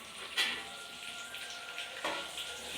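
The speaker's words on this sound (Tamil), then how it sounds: "வந்து தக்காளி போட்டுக்கணுங்க." Tomatoes fry in a pan for a fish curry, a soft steady sizzle at moderate distance with two brief louder stirring bursts, no voices.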